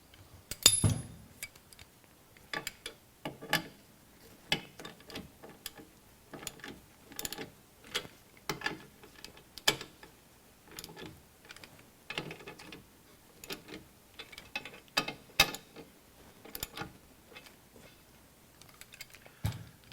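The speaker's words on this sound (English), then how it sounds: "Once it's squared up, loosely tighten the U-bolts." A wrench or ratchet snugs the U-bolts on the tie rod bracket of a Safe-T-Plus steering stabilizer for an RV, making repeated sharp metallic clicks and ratchet bursts at an irregular rhythm, close up, with no talking.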